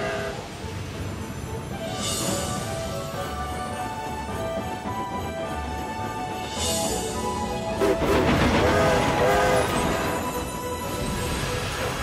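A Thomas & Friends cartoon train departs, rumbling steadily with chuffing and a couple of short whistle bursts, backed by a music score, with no one speaking.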